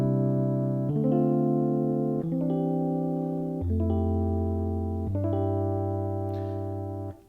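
A Roland FA-06 music workstation plays a chord progression in C with its arpeggiator, five or six sustained chords changing every second or so, each entry lightly rolled, close and steady with no voices.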